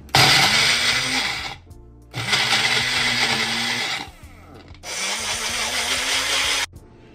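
A mixer grinder blending dry garlic and chili chutney with salt, three loud whirring bursts of a few seconds each, separated by short pauses, close and with no talk.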